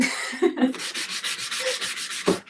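Close, rhythmic hand sanding on a wooden bedside table, quick back-and-forth rasping strokes that repeat steadily for a couple of seconds.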